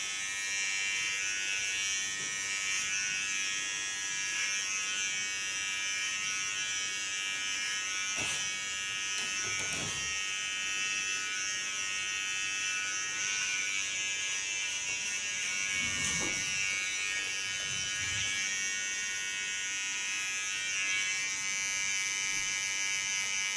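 An electric hair clipper buzzes steadily and close while it cuts a short pixie haircut, a constant high whine throughout with a few faint knocks and no talking.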